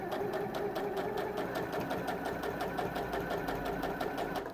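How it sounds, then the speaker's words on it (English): A sewing machine stitches a dress strap with a steady, fast mechanical chatter, running continuously and close up without pause. "I'm just going to do a couple of stitches"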